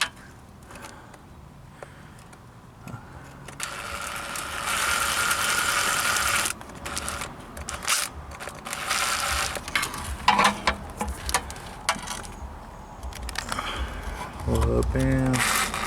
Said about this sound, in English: I'm just trying to get the bolts close to hand tight to make some of the RTV pop out a little bit